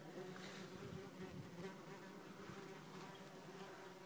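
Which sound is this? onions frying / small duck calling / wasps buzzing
wasps buzzing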